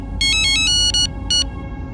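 An outgoing phone call rings with a bright electronic ringtone, three short bursts of tonal chirps in a quick pattern, loud and close over a low background hum.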